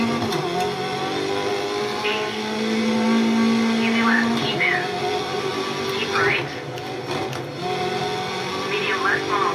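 A video-game car engine streamed on OnLive drones steadily throughout with a held hum and brief revving swells, running under continuous talk.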